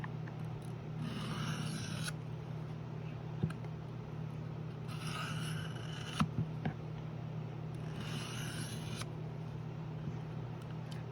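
A high carbon steel Hultafors fixed blade knife strokes across a 1000 grit diamond sharpening plate in three long, even scraping passes, close by over a steady low hum, with no talk.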